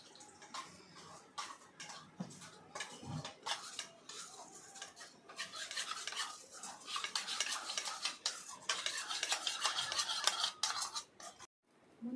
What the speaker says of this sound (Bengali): আমি এখানে জল দিয়ে গুলে নিচ্ছি